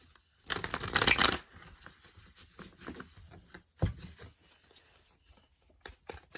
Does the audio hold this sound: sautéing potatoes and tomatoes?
no